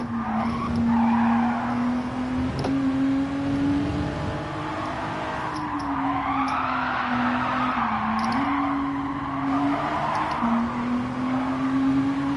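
Race car in Gran Turismo 7 skidding after a missed braking point, a long steady engine drone with tires squealing under it, loud and close, no talk.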